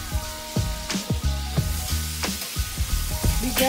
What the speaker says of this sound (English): your pan is hot. It is popping just a little bit, not too much.